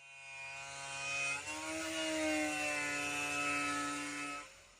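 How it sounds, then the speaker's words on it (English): A wire wheel on a power tool scrubs heavy surface rust off a metal panel, a loud continuous whine with a steady pitch that dips briefly partway through, then winds down at the end. "The reason why I'm using a wire wheel in this situation is because the 60 grit that I was using was not strong enough"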